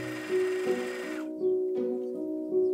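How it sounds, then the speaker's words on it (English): Sewing machine top stitching around a sleeve placket on a 1910s-style blouse: steady mechanical whirring in short runs with brief pauses and pitch shifts between stitch bursts, close and moderately quiet. "you need to top stitch around the placket in order to secure it to the sleeve"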